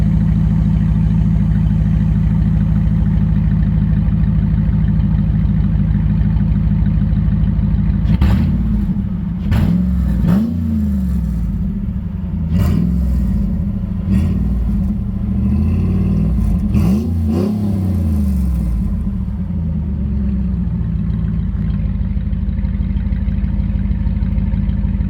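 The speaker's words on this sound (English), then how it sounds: "Sounds like a hot rod with it open like that. We'll give it a few revs and see what it sounds like." RAM 1500 Hemi V8 truck with its exhaust cutout open, idling with a deep rumble and then blipped in a series of sharp, loud revs that rise and fall before it settles back to a steady idle, heard close.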